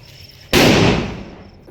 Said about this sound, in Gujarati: તો મિત્રો તમે જોઈ શકો છો ધમાકેદાર ફટાકડો